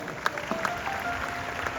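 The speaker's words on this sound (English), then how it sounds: "Give yourself another round of applause." An audience at an organizational training talk gives a brief round of applause, a moderate scattering of clapping hands with a few sharper claps, fairly even and not very loud.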